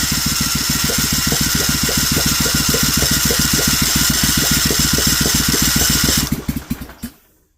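A Vanguard 16HP small engine with rusty cylinders cranks steadily with a fast, rhythmic chugging pulse and a constant loud whir, never catching, then spins down in a few slowing thumps after about six seconds.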